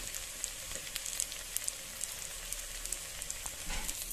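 Tomatoes and spice powder sauté in a pan, a soft continuous sizzle with scattered light crackles and pops throughout, fairly quiet and without talk.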